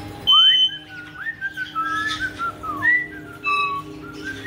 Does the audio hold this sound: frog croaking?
no